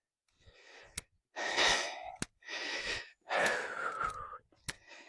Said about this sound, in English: You can hear my elevated breath.